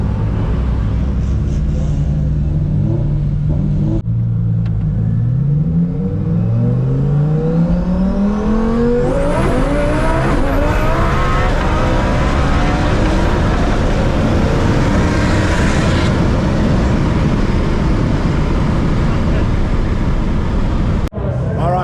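Lamborghinis in a roll race at a Sydney event accelerate flat out from a rolling start, with loud engine roar climbing through several gear changes and a sustained high-revving wail as they pull away.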